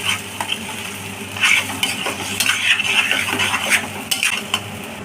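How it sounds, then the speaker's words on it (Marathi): A ground wet spice paste for chole is stirred in oil in a pan with a spoon, giving repeated scraping strokes and clinks of metal on the pan over a steady soft sizzle, close and moderately loud. "तेल सुटेपर्यंत चांगलं हलवायचं हे।"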